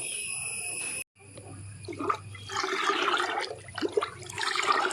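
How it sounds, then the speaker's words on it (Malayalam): Diluted liquid fertilizer poured onto spinach plants in grow bags, a steady splashing, gushing stream of liquid, fairly close, following a brief pause after an opening hiss. "അപ്പോൾ ആ വളമൊക്കെ നമുക്ക് ഡൈല്യൂട്ട് ചെയ്ത് ഒഴിച്ചു കൊടുക്കാം കേട്ടോ"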